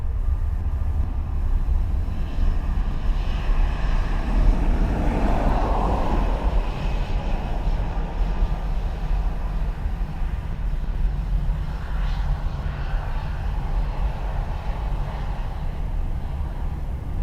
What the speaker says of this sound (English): We should be due our Emirates 777 departure shortly.